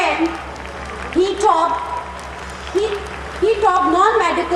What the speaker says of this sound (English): a loud clapping for him